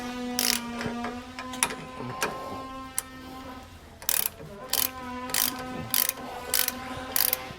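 A ratchet wrench tightens bolts on a Roadmaster front anti-sway bar on a 2008 Freightliner, giving close bursts of rapid clicking in repeated strokes over a background hum.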